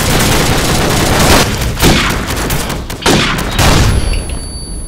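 Rapid gunfire bursts from the M40A3 sniper rifle in Call of Duty 4, loud and close, with several sharp shots and echoing booms over continuous game noise.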